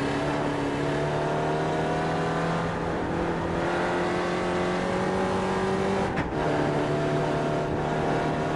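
An SRF race car in iRacing lapping Summit Point, its engine holding a steady, loud drone with slowly shifting pitch as the throttle is eased and reapplied, and a brief dip near the end, no voices.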